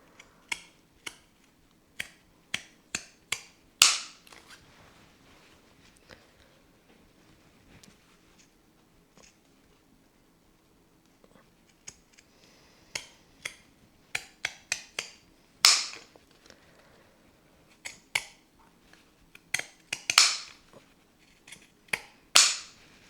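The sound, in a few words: embroidery scissors cutting fabric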